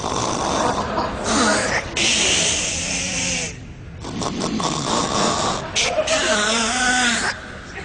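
Loud, rasping snoring in long repeated breaths, imitating a car engine struggling to start in the morning, with short gaps between the bursts and no other sound over it.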